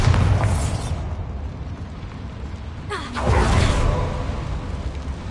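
A Bombarda spell blast inside a mine in Hogwarts Legacy: a broad rumbling boom with a whooshing burst near the midpoint, rising out of a steady low ambient roar and holding loud for a couple of seconds.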